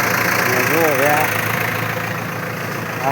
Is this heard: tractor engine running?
yes